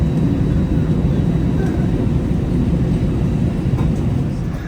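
A big Delta airliner sits at an airport gate, heard as a loud, steady low roar of engines and ground equipment that holds constant throughout.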